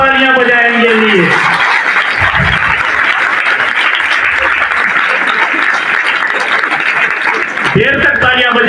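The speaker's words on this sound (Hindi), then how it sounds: "तो इनके लिए स्टैंडिंग ओवेशन, खड़े होकर जोरदार तालियां बजाएंगे।" An audience rises for a standing ovation, breaking into loud, dense, sustained clapping that fills the room for several seconds, with a voice speaking just before it swells and again as it fades.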